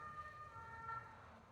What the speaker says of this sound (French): Excusez-moi pour la sirène.